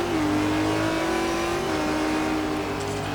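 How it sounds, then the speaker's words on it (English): Race car in a GT1 racing video game at Jerez powering out of a corner, its engine note loud and close as revs climb steadily after a brief shift, with no talk. "Back on the throttle quick."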